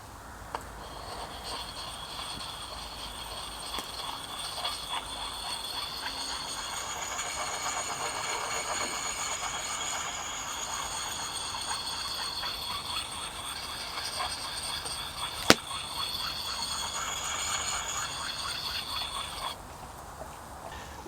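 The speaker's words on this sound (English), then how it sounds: "So I'm just going to give it a little sharpen now, using one of these sharpening pucks." An axe is honed with a sharpening puck at a woodland camp, giving soft, repeated rasping strokes in a steady rhythm, fairly quiet and close, with no talking.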